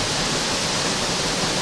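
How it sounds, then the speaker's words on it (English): Waterfall on Cyprus rushes as a dense, steady broadband roar of falling water, loud and close, with no voices. "This is a waterfall,"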